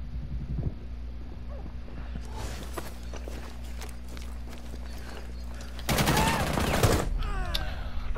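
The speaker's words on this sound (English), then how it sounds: "I'm shooting him in his head!" Gunfire in the tactical shooter game Rainbow Six Siege, with scattered shots in the middle and a louder, dense burst near the end, over a steady low hum and faint movement sounds.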